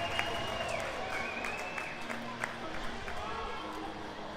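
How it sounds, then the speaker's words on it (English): Crowd at a college ice hockey game between San Diego State and Colorado State cheering after a point-blank save, a steady, fairly distant roar with scattered clapping that holds through the moment. "Crowd cheering for Nocera after a great point-blank save there from a dangerous scoring spot."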